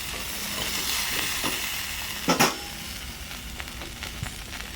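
Vegetables frying gently in a pan over low gas, a soft continuous sizzle with a few brief clatters and stirring scrapes midway.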